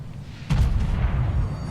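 A battleship in the World of Warships video game takes a shell hit, with a sudden loud deep boom followed by a rumbling, crackling tail that fades slowly. No voices.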